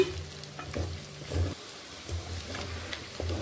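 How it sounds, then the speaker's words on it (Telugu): Chicken pieces fry in a pan over a medium flame for gongura chicken pickle, with a steady close sizzle and intermittent scraping stirs that briefly quiet the frying around the middle. "కానీ మనకి ఇంకా ఫ్రై అవ్వాలి చికెను"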